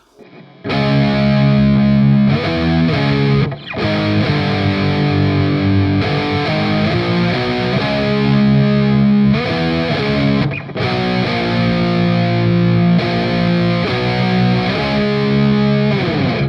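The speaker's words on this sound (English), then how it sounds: "one of the heaviest moments in all of heavy metal, in my opinion, the bridge riff" The bridge riff of a song on heavy, distorted electric guitar chugs on the 6th and 5th strings, loud and sustained with brief gaps between phrases.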